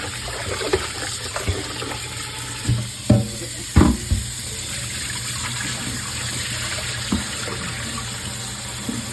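Fufu ingredients are washed in water, with close, irregular splashes and sloshes over a steady background hiss.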